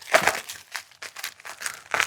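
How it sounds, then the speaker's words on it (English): Arsenal scissors snipping and slicing through packing tape on a fishing rod package in a garage, a series of close, crisp crinkling cuts and tears in quick bursts. "cutting our way through the tape"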